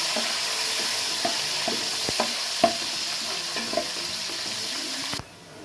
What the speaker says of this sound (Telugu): సన్నగా తరుగుతున్న ఉల్లిపాయ వేసుకోండి. ఉల్లిపాయ బాగా ఎర్రగా వేగాలండి.